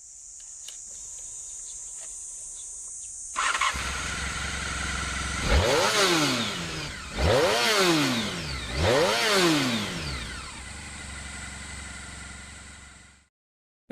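A Honda NR750 V4 motorcycle engine idles, then revs hard three times in quick succession, each rev climbing and falling, over a steady high-pitched whine.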